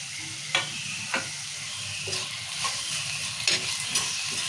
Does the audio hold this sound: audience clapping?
no